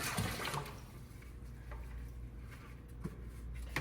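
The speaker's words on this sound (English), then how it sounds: "I'm going to give it a good rinse. Then I'm going to put it in the second bucket for yet another rinse." Glazed pottery being rinsed in a bucket of water: continuous sloshing and splashing with a few louder swishes, close and steady throughout.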